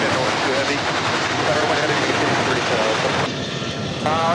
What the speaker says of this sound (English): oh, look at this. We've got a go around.